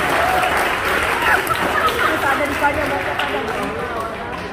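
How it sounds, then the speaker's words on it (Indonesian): Sustained applause from an audience at a student entrepreneurship workshop on a university campus, a dense steady wash of clapping filling the whole stretch with a voice speaking faintly underneath. "Tepuk tangan satu lagi."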